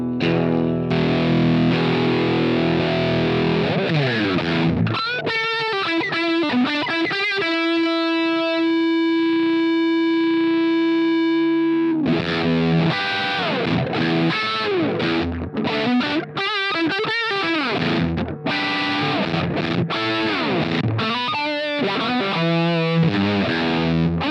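An electric guitar runs through a Sonicake Cry-Bot auto wah pedal with a fat rat-style distortion, playing loud sweeping, vowel-like filtered chords and a long sustained note, with no talking.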